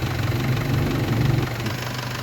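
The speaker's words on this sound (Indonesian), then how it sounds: "walaupun mesin sudah menyala" A light vehicle's engine idling up close: a steady, loud, low rumble with a rhythmic throb and slight knocking pulses, running continuously with no speech.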